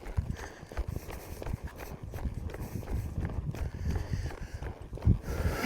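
A mare's hooves beat in a quick, uneven clip-clop rhythm on soft ground while she is ridden, fairly quiet, with one heavier thud near the end and no talking.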